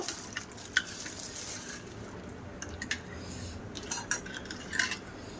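A spoon clinks and scrapes against a bowl while fuchka filling is stirred and mixed with spices, giving soft irregular taps and squishes at close range.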